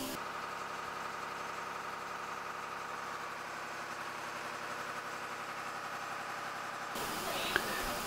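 A borehole water pump's motor runs steadily at a village water point, a continuous mid-low engine drone with a knocking, vibrating texture, fairly close and even, cutting off near the end as another sound takes over.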